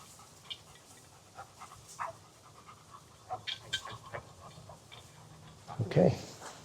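A dog pants near the holding blind at a retriever field trial, with quick, soft, irregular breaths across the whole stretch and a louder burst close by near the end.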